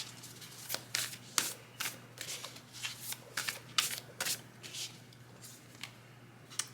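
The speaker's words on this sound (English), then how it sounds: "So let's get some more oracle cards." Oracle cards are shuffled by hand in a quiet room: a string of quick papery riffles and slaps, close and fairly soft, over a low steady hum.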